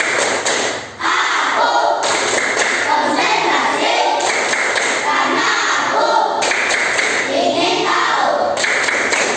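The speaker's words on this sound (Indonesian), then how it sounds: "Tepuk konsentrasi." A classroom of children clap together in a steady, loud rhythmic pattern that runs almost continuously, close by and filling the room.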